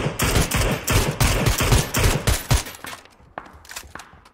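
Rapid automatic gunfire in PUBG, a loud close burst of repeated shots for about three seconds, then a few scattered single shots trailing off.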